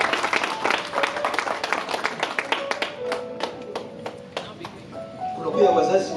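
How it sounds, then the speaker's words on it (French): A church congregation at a Sunday worship service claps in a steady, rhythmic roomful of applause that fades slightly before a brighter burst near the end. "Est-ce qu'on peut acclamer?"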